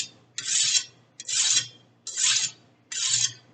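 A chef knife's blade is drawn across a coarse sharpening stone in four even strokes, each a loud, close rasping scrape about half a second long, separated by short pauses.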